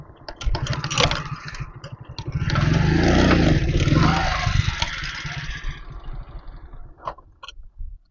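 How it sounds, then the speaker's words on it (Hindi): A motorcycle engine runs loud and close on a rough hillside track near a dargah in Hyderabad, swelling around the middle before settling to a lower idle with clicks and rattles as the bike comes to a stop. "यहाँ पे हम मोटरसाइकिल रोकते हैं"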